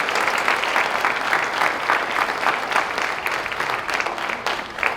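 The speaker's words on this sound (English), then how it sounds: "let's give a round of applause to Lexi and Sasha and their flowers as well" A crowd at a cultural night showcase breaks into loud, sustained applause, many hands clapping densely and evenly throughout with no voices on top.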